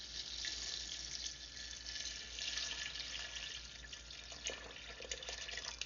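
A steady rush of filtered water pouring and splashing into a pot of dried fruit, continuous and fairly soft, with a few brighter splashes near the end.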